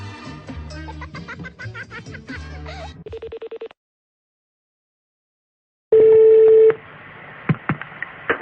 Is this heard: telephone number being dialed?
yes